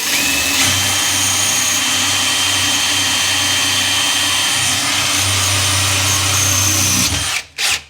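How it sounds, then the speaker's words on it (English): A power drill fitted with a new Bosch multi-bit bores steadily through bathroom tiles, a loud continuous whirring drone for about seven seconds before it stops and a short burst of handling noise follows. "I knew I was drilling tiles today, so I went and got a new Bosch multi-bit"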